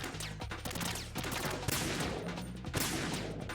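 Gunfire in the video game Metal Gear Solid 2, dense overlapping bursts of shots rattling continuously and loudly with no pause.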